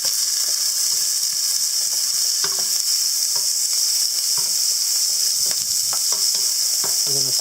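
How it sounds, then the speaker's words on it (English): Chopped onion sizzling and hissing steadily in a hot pan for a soup, with intermittent scrapes and clicks as it is stirred. "So into that we're going to add the onion."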